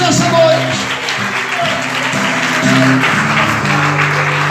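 A church congregation applauds continuously during an evening service, a steady wash of clapping under a preacher's voice and sustained musical tones.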